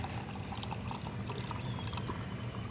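Water pours steadily and noisily into containers, a continuous splashing gush that is close and fairly loud, with no pauses and no talking.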